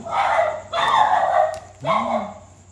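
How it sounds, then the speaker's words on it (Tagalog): Several sharp barks and yelps from dogs close by, in quick bursts with brief gaps, ending in a rising whine. "Yan, pati aso nag-aaway na"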